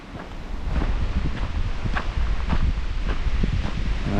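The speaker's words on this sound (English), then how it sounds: "The wind was supposed to be not as fierce today, but definitely starting out was worse." Strong gusts of wind buffet the microphone on a mountain trail to Mt. LeConte in the Great Smoky Mountains, a continuous loud roar and rumble with no one talking.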